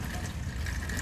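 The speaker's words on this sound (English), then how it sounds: "Water's running." Water runs steadily through a sanitary sewer line during a serviceability check at a home driveway and garage, a continuous close rushing wash with no pauses.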